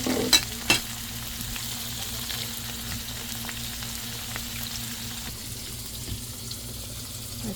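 Tofu fries in a pan with a steady, close sizzle, joined by a couple of sharp clinks early on and faint stirring and scraping throughout.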